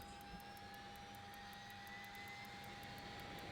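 A steady, faint engine drone with a tonal whine comes from an aircraft's right engine starting up in a flight simulator. It holds constant throughout, with no voices.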